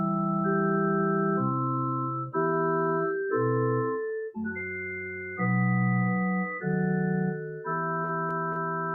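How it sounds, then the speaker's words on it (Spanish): A melody played on an organ in a choral style, with sustained chords moving in steady block harmony, each chord held about a second before shifting to the next, loud and close with no voices. "Lo voy a tocar con la versión de órgano porque está como escrito de manera coral."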